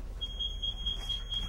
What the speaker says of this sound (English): Okay, that's our smoke alarm.